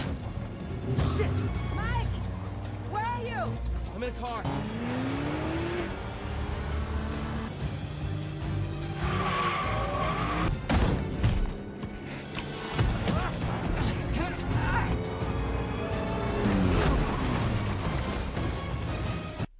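A car chase in an action film, with tire skids, crashes and impacts thudding under a dense, continuous score; people talk at points throughout.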